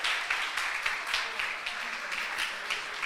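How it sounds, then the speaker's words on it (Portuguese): Church congregation clapping as a pastor is welcomed, a moderate, somewhat distant wash of applause with faint rhythmic pulses throughout. "Aplauda Jesus por essa vida, ei!"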